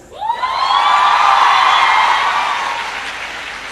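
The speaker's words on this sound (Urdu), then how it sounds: "اور یہ تالیاں جو ہے نا وہ لڑکوں کی طرف سے زیادہ بجنی چاہیے" Students applaud at a scholarship ceremony, with loud, dense clapping that swells quickly, holds steady, then slowly fades, and a few cheers mixed in.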